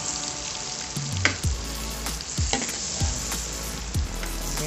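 Butter and a little oil sizzle in a frying pan, a dense, steady crackle close by, punctuated by several soft knocks and thumps of a utensil against the pan.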